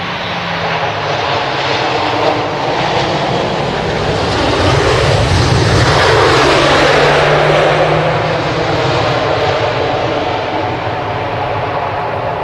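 Airliner landing on runway 05R at Manchester Airport in early morning, a loud continuous jet engine roar that swells as the aircraft passes close by, then holds steady as it rolls away.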